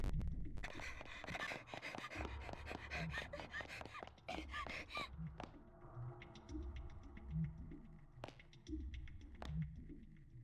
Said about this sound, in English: here's someone running and panting.